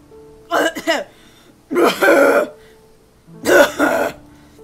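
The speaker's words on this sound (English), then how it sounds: "I had heard bad coughs before, but nothing like that." Harsh, wet coughing fits from a sick character in the video game Soul Gambler: three separate bursts, each a cluster of hacking coughs, loud and close with pauses between.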